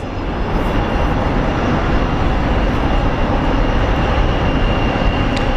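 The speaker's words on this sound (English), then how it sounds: "Oh snap, we are getting a UPS MD-11." A UPS MD-11 cargo jet at Phoenix Sky Harbor International Airport roars as a steady, loud, broadband engine rumble that holds constant through the whole stretch, with no voices over it.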